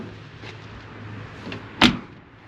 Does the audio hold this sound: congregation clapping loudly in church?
no